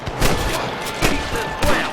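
Gunfire in the Western video game Red Dead Redemption, with three loud, close shots at roughly even intervals cracking over a steady background din of game ambience.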